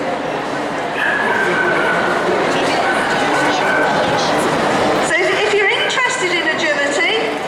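A Golden Retriever Poodle cross dog barks and yips repeatedly during an agility demonstration at a pet show. The barks sound close and loud over constant talking and crowd chatter in a large indoor hall.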